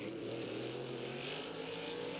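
Trans-Am race cars at the 1990 SCCA event in Des Moines, Iowa, roar continuously while braking into a left-hand turn and powering out, a dense, fairly distant engine drone with no voices.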